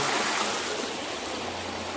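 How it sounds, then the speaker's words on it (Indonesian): Small river stream flowing steadily as a continuous broadband rush of water, fairly loud and close, with no voices over it. "Sungai kecil lagi, Mas."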